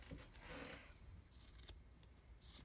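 Scissors trimming warp thread on a loom, a few close, quiet snips and blade rasps in a row, with no talking.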